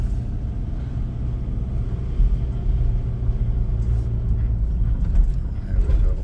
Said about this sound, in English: we're just pulling up to our first house